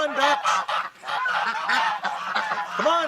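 Ducks call near a nest in repeated honking, nasal squawks, loud and close, several overlapping in an irregular run with a brief lull near the middle.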